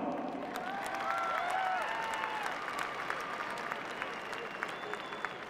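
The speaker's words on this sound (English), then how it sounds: "We'd like to give them a round of applause." Stadium crowd at Croke Park applauds sponsors after the All-Ireland club hurling final, a broad steady wash of distant clapping with faint cheering and whistles over a PA hum.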